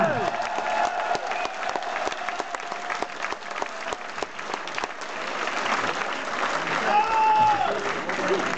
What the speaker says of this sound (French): On les applaudit encore un coup là.